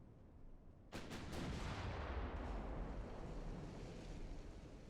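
Naval gunfire in the warship game Ultimate Admiral: Dreadnoughts: after a quiet second, a heavy deep boom erupts in a quick ripple of shots, then a long rolling rumble with sea-like wash fading slowly.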